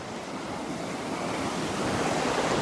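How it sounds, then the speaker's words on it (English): Ocean surf breaks on the beach at Pawleys Island in the morning, a steady close roar of crashing waves that swells slightly louder toward the end, with some wind buffeting the microphone. "And then you wait till the next big wave hits that same pole."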